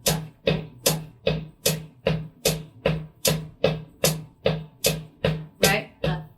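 Drum sticks play a rudiment sticking pattern at double speed: a steady, even run of about sixteen crisp strokes, close and moderately loud with no talking.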